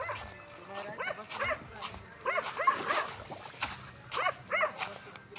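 A dog barks and yips in short repeated bursts at night while out crabbing with lights, with people talking nearby over the barking.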